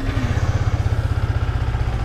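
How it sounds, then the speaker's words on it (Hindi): A 2023 Yamaha R15 V3 motorcycle idles just after starting, its exhaust giving a steady, close, even rhythmic thrum with no talk over it. "बाइक को कर लेते हैं स्टार्ट और सुन लेते हैं किस टाइप का अपने को एग्जॉस्ट साउंड यहाँ पर मिलने वाला है"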